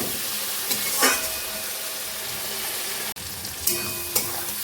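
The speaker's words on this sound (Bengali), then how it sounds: "বাকি যা গুঁড়ো মশলা লাগে সেগুলো দিয়ে যে আলুটাকেও একবারে কষিয়ে নিচ্ছে" Large potatoes are sautéed with garlic, ginger and ground spices, sizzling steadily in hot oil close up while a spatula scrapes and stirs through them in occasional strokes.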